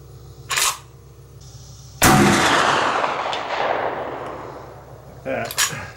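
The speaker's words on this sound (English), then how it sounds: "getting steel out that far with an old black powder cartridge rifle" An 1876 Winchester black powder cartridge rifle fires a single loud, sharp shot outdoors, its boom rolling and fading over a few seconds, with brief clicks and handling noises before and after.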